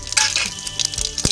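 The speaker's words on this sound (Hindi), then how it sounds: "तेल हमारा गरम हो चुका है, अब हम इसमें जीरा डालेंगे" Cumin seeds sizzle in hot oil in a kadai, a close, bright frying hiss broken by small pops and a few scraping clinks.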